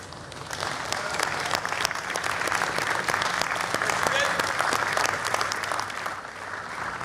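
A large festival audience breaks into sustained applause, dense clapping rising and holding steady for several seconds before tapering slightly, with a faint voice under the crowd.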